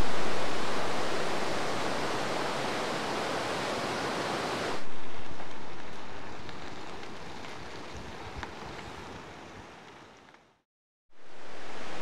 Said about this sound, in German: Der Fluss nennt sich auch Passer.